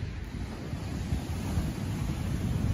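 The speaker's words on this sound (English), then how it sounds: "It's been causing some rough seas and some swells." Rough sea surf and swells at Cinnamon Bay, St. John, U.S. Virgin Islands, stirred by an Atlantic storm system: a steady, continuous low rumble of breaking waves mixed with wind noise, with no voices.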